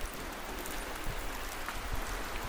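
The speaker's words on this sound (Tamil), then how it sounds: "நல்லா மழை தூரல் போடும்" Light rain drizzle falling outdoors, a steady, even hiss of drops pattering on surfaces with no voices.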